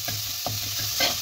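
Potato masala filling for dosa being stirred in a pan, a soft continuous sizzle with a few short spatula scrapes, close and fairly quiet, no talking.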